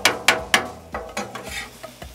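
Drained kidney beans and diced tomatoes cook on a Blackstone griddle with a soft sizzle, broken by a few sharp spatula taps and scrapes close by.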